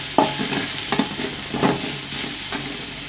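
Onions and garlic frying in a pan for tilapia dopiaza, a steady close sizzle broken by four or five sharp scraping stirs spaced about every 0.7 seconds, with no voices.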